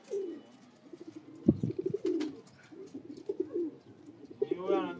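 Pigeons coo nearby in low, rolling phrases that repeat through the stretch, several calls overlapping with occasional sharper wing or perch noises.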